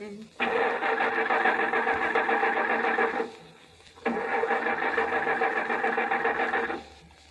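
Radio-drama effect of a car starter cranking twice in long, steady whirring bursts with a pause between, the engine failing to catch.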